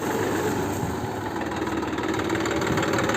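A Massey Ferguson 244 4x4 tractor idles nearby on a potato farm in Uttar Pradesh, a steady loud rumbling engine drone with a constant vibrating throb and no talk over it.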